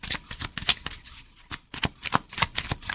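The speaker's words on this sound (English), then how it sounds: "Let me pull more cards," Tarot cards shuffled by hand in a run of quick riffling bursts and soft flicks, close and fairly quiet, with no talking.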